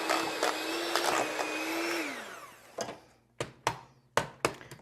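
An electric mixer whirs through four eggs for a couple of seconds, its motor pitch sagging as it winds down, followed by several sharp taps and knocks of the beaters against the bowl.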